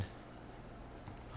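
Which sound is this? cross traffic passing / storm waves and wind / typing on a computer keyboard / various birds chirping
typing on a computer keyboard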